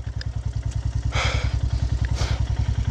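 A motorbike on a solo mountain ride from Tawang toward Madhuri Lake churns along a muddy, slippery track, its engine thudding in a steady, rapid pulse up close, with brief splashy rushes of mud or water.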